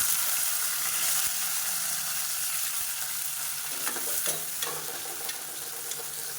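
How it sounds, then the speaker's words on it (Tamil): Shallots for mutton sukka fry in hot oil, giving a dense, steady sizzle that carries through the whole stretch. A few faint stirring scrapes come through the hiss near the middle. Close, with no talking. "வெங்காயம் நல்லா வதங்கிட்டு இருக்கு"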